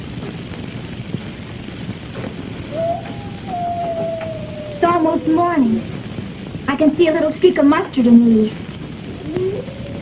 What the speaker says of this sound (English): It's what those brush wolves are singing at.